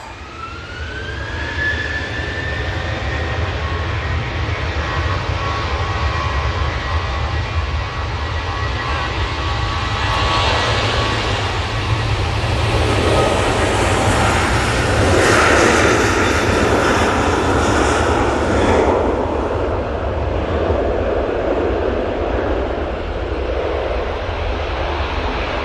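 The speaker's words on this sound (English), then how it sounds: "737 now on the roll." A Boeing 737 airliner rolls down the runway for takeoff at Manchester Airport, its jet engines building into a loud, sustained roar with a rising whine that swells steadily and holds strong, heard alone without talk.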